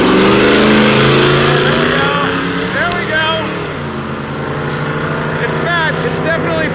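A '76 Dodge Dart with a 318 V8 launching off the line on nitrous, loud engine roar climbing through revs and shifting with rising and falling pitch, up close, with voices speaking over it.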